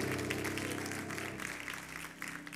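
A church congregation claps together over sustained tonal music, forming a continuous, moderately loud patter that fades a little toward the end.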